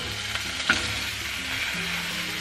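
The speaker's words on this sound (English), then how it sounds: "I also heated this up with like a little bit of oil just to make sure it, I don't know, gets all coalesced." Tortilla wrap frying in a little oil in a pan, a steady soft sizzle with faint crackles and a brief clink of utensil near the start, close and continuous with no talking.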